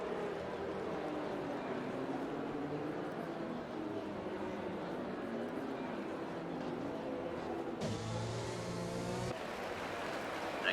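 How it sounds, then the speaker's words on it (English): GP1 race cars at the Spanish Grand Prix drive slowly behind the safety car while warming their tires, giving a steady engine drone throughout with a brief shift in pitch near the end. "Everybody warming their tires."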